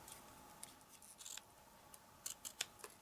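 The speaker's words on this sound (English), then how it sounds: "I just snip the letters off at different angles." Paper letters being cut by hand with scissors: a few soft, quick snips and crisp clicks, scattered and irregular, close by in an otherwise quiet room.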